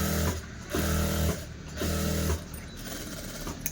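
A sewing machine stitches a blouse lining in three short runs, each a steady mechanical whir lasting about half a second, separated by brief pauses, close and clear with no talk.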